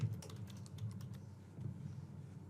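Quiet, rapid keystrokes on a computer keyboard as a workflow name is typed, a brisk burst of clicks that slows to a few scattered taps.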